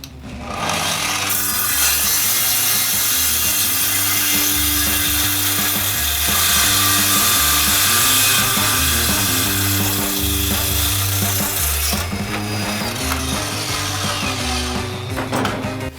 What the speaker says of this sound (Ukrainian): Відразу беру дошку 50 на 150 давайте попробуємо на мінімальних обертах, чи зможе різати.